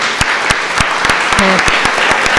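An audience at a solemn legislative session on Housing Day claps loudly, a dense wash of many hands with a few sharp close claps standing out and a brief voice underneath.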